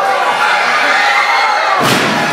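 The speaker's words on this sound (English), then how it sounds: "And a big side slam knocks Rose down" A wrestler is driven into the mat with a side slam during a pro wrestling match, a heavy thud near the end landing over the loud, constant roar of the arena crowd.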